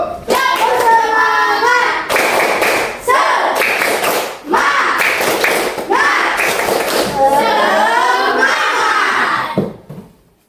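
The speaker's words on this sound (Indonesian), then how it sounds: "coba tepuk semangat dulu." Classroom children do a rhythmic spirit clap together, loud patterned bursts of hand claps in several phrases with short pauses between them, mixed with children's voices.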